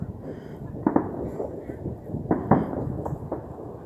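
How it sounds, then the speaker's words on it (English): New Year's Eve fireworks in St. John's, Newfoundland go off at a distance, a scatter of muffled bangs and pops at irregular intervals over a low background hum. "there's like fireworks going off everywhere"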